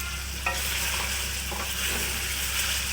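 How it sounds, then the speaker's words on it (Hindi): Chicken pieces frying in oil in a pan for white korma, a steady loud sizzle with occasional stirring scrapes and clinks, close-up and continuous with no talking. "चिकन माशाल्लाह से बहुत अच्छा फ्राई हो चुका है"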